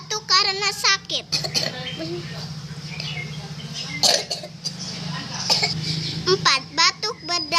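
A young voice imitates a sick person's cough, giving a few short, harsh coughing bursts mixed with chatty talking close to the mic.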